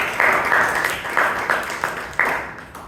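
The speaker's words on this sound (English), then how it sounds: "So please give Veeresh and Vijayan a big round of applause." Applause at a Toastmasters club meeting in Bangalore, a small group clapping in uneven bursts with distinct loud claps standing out, close by and quickly dying down.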